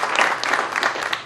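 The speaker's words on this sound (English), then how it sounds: "Scott DeCane, give him a round of applause" A crowd at an outdoor groundbreaking ceremony for a new Safeway store breaks into a brief round of applause, fairly close and lively, with individual claps audible in the wash.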